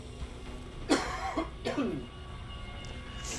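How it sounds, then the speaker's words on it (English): Two harsh coughs sound close by, one after another, over a faint steady background hum. "Excuse me, I am going to cough."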